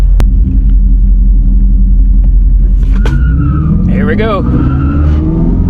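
An electric General Lee car races a Dodge Scat Pack at the Hot Rod Power Tour. A steady low rumble gives way to a rising whine as the car accelerates hard, and someone speaks briefly at the start.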